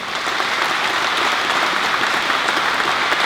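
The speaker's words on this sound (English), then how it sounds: "Could you please give each students a round of applause?" A crowd at a youth awards presentation applauding steadily, dense clapping from many hands that stays loud and even throughout, with no voices standing out.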